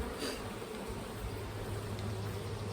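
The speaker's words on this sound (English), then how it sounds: "Plenty of bees around for now." A faint, continuous low hum of many bees, steady and unbroken throughout.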